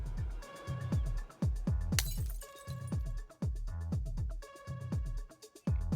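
Ice smashing in the video game Path to Nowhere, a run of sharp glassy cracks and shattering hits with a bright burst near the middle, ringing over a steady musical backdrop.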